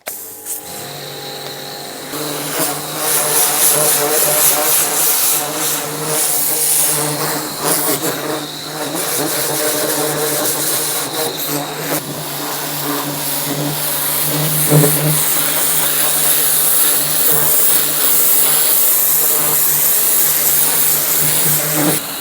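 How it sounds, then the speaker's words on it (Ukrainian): A Vitals Master Am 7.2-165w pressure washer runs steadily and loudly after a brief start, its motor drone and hissing spray sustained throughout with small fluctuations. "запускаємо нашу миєчку і починаємо тест-драйв"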